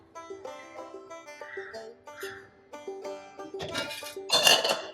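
Pieces of peanut chikki are set onto a plate one after another, giving light clinks and taps that build into busier clattering near the end, with no talk.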